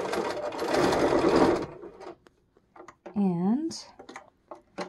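A sewing machine stitching a fabric mask, a loud rapid whirring burst for about one and a half seconds, followed by a person speaking and a few faint handling noises.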